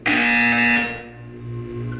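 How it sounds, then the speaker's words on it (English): A single loud electronic buzzer from the Portal 2 video game blares for about a second, then decays into a low lingering hum. "You will hear a buzzer."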